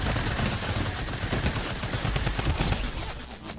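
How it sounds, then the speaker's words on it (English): Tommy drum gun fire in the Fortnite video game, a dense, loud, continuous stream of rapid automatic shots with a busy battle background, no voices. "The Tommy gun is the best gun in the game."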